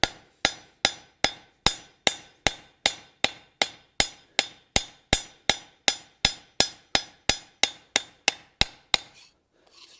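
A hammer forges a bevel onto the edges of a copper spatula, ringing out in a steady rhythm of about two dozen sharp, bright metallic blows at a quick, even pace before stopping.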